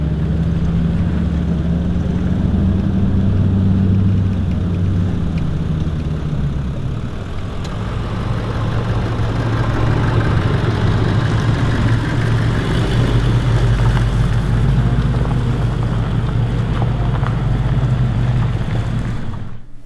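A 4WD vehicle creeps down steep hill terrain near Wellington Dam in first gear low range, its engine a steady mid-pitched hum and whir that holds close and even throughout.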